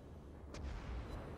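Naval gunfire from a warship in World of Warships: a single faint, distant boom rises from a low rumbling background and fades quickly.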